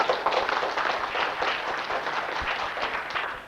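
A crowd applauds Professor Salique Chaudhary, a steady patter of clapping that holds evenly throughout and then tails off slightly at the end.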